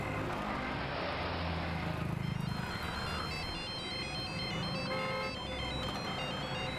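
A phone ringtone repeats steadily through the scene as a call to a sister goes unanswered, moderately loud over a low background hum.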